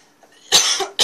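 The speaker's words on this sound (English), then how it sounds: "I'm sorry, I got like the cough out of nowhere." A person coughs close to the microphone: a soft throat sound, then a sharp, loud cough burst and a second quick cough right after.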